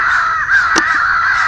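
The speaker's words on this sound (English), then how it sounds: "When you're calling with the crows and they're communicating, it's just like turkeys." Crows cawing during a summer crow hunt, a loud continuous harsh call close by with one sharper note cutting through, no speech.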